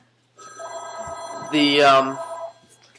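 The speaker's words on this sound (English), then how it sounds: "there's the phone's ringing" A telephone rings in a room, a single warbling electronic ring burst lasting about two seconds, clear and close, with brief speech around it.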